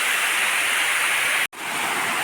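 Ethamanuguda waterfall gives off a loud, steady broadband roar of falling water that fills the whole clip, broken by one abrupt split-second cut before the rush resumes.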